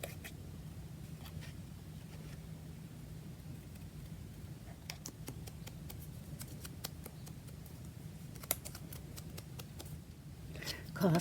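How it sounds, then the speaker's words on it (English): Stiff scissors cutting paper, a series of sharp crisp cuts clustered in the middle and end, over a steady low hum with faint rustling and handling noise. "Oh, these are so stiff, these scissors."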